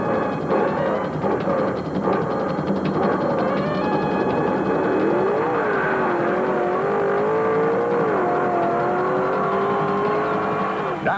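1975 Pro Stock drag race run at Rockingham International Dragway, a Ford Mustang against a Dodge Colt, with loud engines roaring and rising in pitch as they accelerate down the strip, continuous throughout with no talk.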